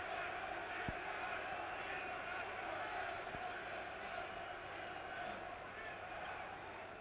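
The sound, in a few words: boxing crowd cheering for the German boxer Mildenberger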